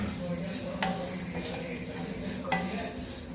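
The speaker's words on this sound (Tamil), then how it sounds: "எள்ளு நல்லா பொரிஞ்சு வருது" Sesame seeds and curry leaves being stirred as they fry in a pan for ellu podi. A faint sizzle runs underneath while a metal spatula scrapes and clinks against the pan at a couple of moments, close by.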